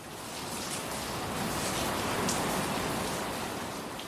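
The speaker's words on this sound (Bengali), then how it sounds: "আর এমন বৃষ্টি যে সকালে বেরোনোর প্রশ্নই নেই।" Heavy monsoon rain pouring in the hills at Sittong, a dense unbroken hiss of downpour that stays loud and even from start to finish, with no voices.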